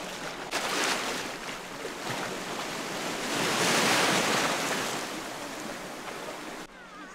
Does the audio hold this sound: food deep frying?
no